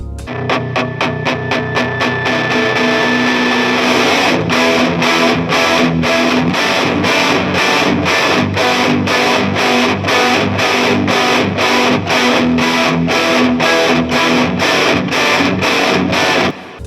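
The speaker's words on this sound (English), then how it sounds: "The rhythm guitars sound like this." Loud distorted electric guitars chug out a steady, driving rhythm, thick and saturated, with tight repeated chords running continuously and no voices.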